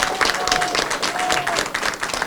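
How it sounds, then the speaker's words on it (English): An audience at a city council announcement on gun violence prevention applauds a police captain, a brief burst of steady, dense clapping from a crowd indoors. "Let's give him a round of applause, please."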